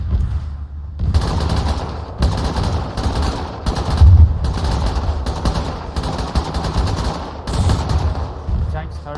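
Bursts of automatic gunfire and single shots in Arma 3, loud and close, coming in rapid clusters separated by brief gaps across the whole stretch.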